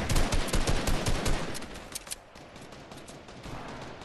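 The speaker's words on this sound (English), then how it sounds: "There's some kid sniping somewhere." Rapid gunfire bursts crackle loudly in a Fortnite match, dense volleys in the first half tapering to scattered, quieter shots and a steady background rumble.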